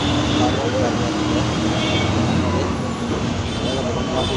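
Inside a local city bus in heavy traffic, a loud, continuous engine and road roar fills the whole stretch, with voices mixed into the noise.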